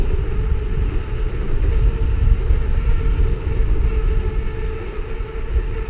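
An electric mountain bike's motor runs with a steady, loud rumble and a faint whine during a ride at about 20 miles per hour, holding constant throughout with no talking.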